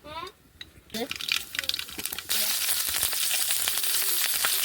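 A few clinks and stirring sounds, then shallots and green chilies hit hot oil and a loud, steady sizzle of frying takes over.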